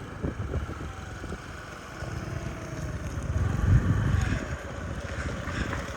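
A Yamaha Jog SA36 fuel-injected scooter from Japan rides along steadily, its engine drone mixed with strong wind rush, swelling louder midway, no talk.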